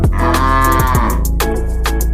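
A cow moos loudly and close, a long low drawn-out call followed by shorter lowing bursts, heard alone.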